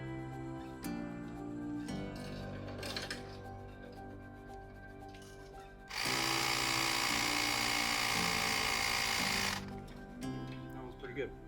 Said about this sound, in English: I bought this little pump